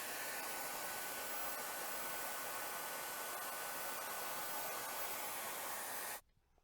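A Gamma IQ hair dryer fitted with a diffuser runs on its low setting, a steady close broadband airflow whoosh that holds evenly for about six seconds and then cuts off abruptly into silence.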